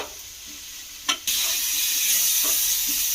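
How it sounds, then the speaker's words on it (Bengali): A steady loud sizzle of tomatoes frying in a hot pan, with a couple of brief clinks of stirring at the start. "এবারে এটাকে খুব ভালো করে একটু ভেজে ভেজে নেব"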